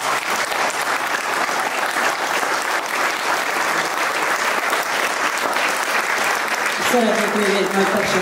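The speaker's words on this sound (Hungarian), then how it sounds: "Még egy nagy tapsot" A wedding audience applauds with sustained, dense clapping that stays loud throughout, and a voice begins speaking near the end.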